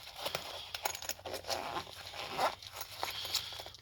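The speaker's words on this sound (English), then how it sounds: "these little zipper parts here to hold small little sockets and stuff" Zipper on a Mosko Pinner tool roll, its small pockets holding little sockets, pulled in a run of quick close scratchy rasps with faint metallic clinks, steady and near.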